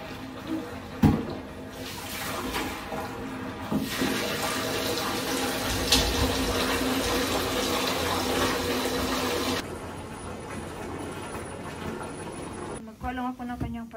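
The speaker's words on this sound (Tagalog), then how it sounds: "ngayon, i-run ko yung bath ni Kira kasi maliligo na siya" A bathtub in a UK home fills from a running tap: a steady, close rush of water runs for most of the stretch, with a voice heard at times over it.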